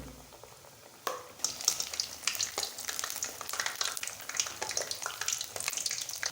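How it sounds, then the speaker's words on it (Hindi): Potato pakoras deep-frying in hot ghee give off a dense, crackling sizzle that jumps up after a quiet first second, then keeps popping and spitting steadily, close and fairly loud, with no talking. "और इसे हम घी में डालेंगे। तो इसी तरीके से हम पकोड़े बना लेंगे।"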